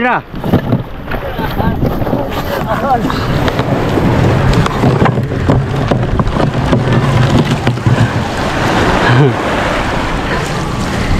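Rough sea churns and splashes around a small wooden boat, with constant wind buffeting the microphone and waves slapping the hull, while people shout and call out to each other over the roar.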